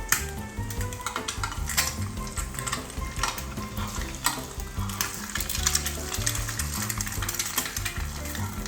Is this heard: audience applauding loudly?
no